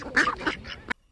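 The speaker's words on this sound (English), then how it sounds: "D for duck." A duck quacks in a short burst of two or three rasping, nasal calls within about a second, close and moderately loud, then silence.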